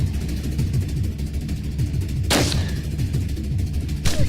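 Handgun shots in a video game, two sharp loud cracks a couple of seconds apart, rising over a constant low rumbling background of game noise.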